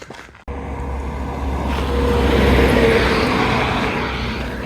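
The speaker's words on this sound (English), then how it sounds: "Another truck with an Uzbeki license plate." A truck rumbles past at a border crossing into Uzbekistan, a heavy low engine drone swelling loud and close, then easing slightly as it moves on, with no talking.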